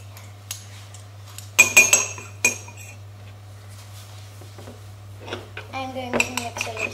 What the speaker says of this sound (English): I'm going to mix it with the dough.